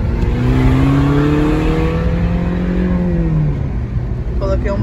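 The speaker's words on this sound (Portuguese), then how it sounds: "coloquei um barulhinho no meu carro, né? Tem uns 2 dias, ó. Vou tentar dar uma aceleradinha." A car fitted with an added exhaust sound modification revs up, its engine tone climbing and holding in a loud, close drone before easing off, with a brief voice at the end.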